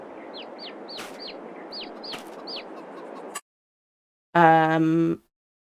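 A chicken in a farming video game clucks in a quick run of short, repeated clucks over soft ambient noise. After a gap of silence, a brief loud tonal game sound follows.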